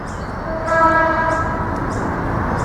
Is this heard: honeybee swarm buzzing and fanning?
no